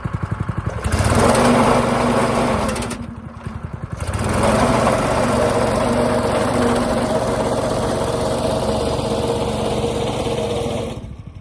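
A walk-behind sod cutter with its cutting knife lowered, engine running hard with the throttle engaged, a loud steady small-engine drone that dips briefly before resuming and then cuts off near the end.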